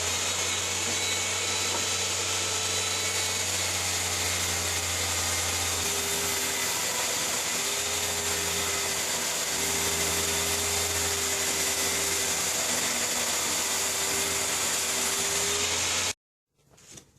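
A circular saw runs through wood trim with a steady, loud whine that holds for about sixteen seconds before cutting off abruptly, followed by a brief quieter rustle.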